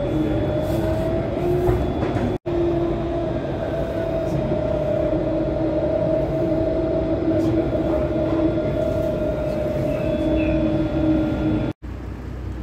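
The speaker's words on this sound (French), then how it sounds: "On est dans le tram à Bordeaux." Inside a moving tram in Bordeaux, a loud continuous rumble with a steady motor whine fills the car, broken by two brief dropouts and faint background voices.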